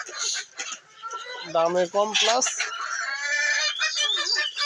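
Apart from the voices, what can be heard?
Fayoumi chickens clucking while eating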